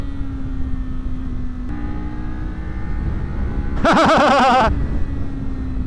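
A Kawasaki Z500 motorcycle engine runs at high revs with a steady whine, swelling into a brief, louder full-power rev burst near the end before settling back.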